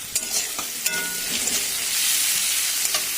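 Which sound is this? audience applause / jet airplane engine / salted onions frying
salted onions frying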